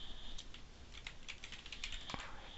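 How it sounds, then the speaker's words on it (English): Quiet, rapid clicking of a computer keyboard as a chart title is overtyped in Excel, a short irregular burst of keystrokes close by with no talk. "Overtype the title."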